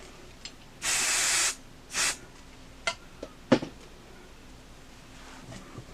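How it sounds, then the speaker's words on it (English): Adhesive spray hisses from an aerosol can onto quilt batting in two bursts, one long and one short, followed by a few soft taps and rustles in a quiet room. "I didn't put enough spray down here because I thought I didn't need as much. Let's put a little bit more on the end of our batting over here."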